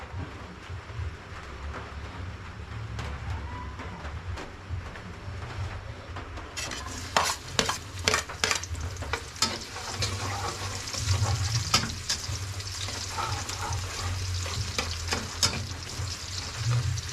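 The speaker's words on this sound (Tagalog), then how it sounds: "Sarap kasi pag magigisa ako maraming bawang maraming sibuyas." Garlic and onion sizzle steadily in hot oil in a pan, with a continuous crackling fry and occasional stirring clinks and clatter close by. No one speaks.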